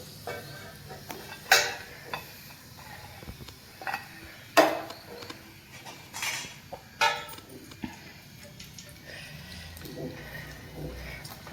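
Sabudana potato sandige frying in hot oil, with soft intermittent sizzling and several sharp clinks and scrapes of a utensil against the pan, unhurried and close.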